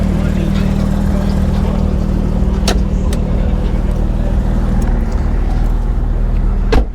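A 2010 Porsche 911 GT3 of the 997.2 generation idles and runs with a loud, steady low engine rumble heard from inside the car, a few sharp knocks along the way and a brief swell at the end.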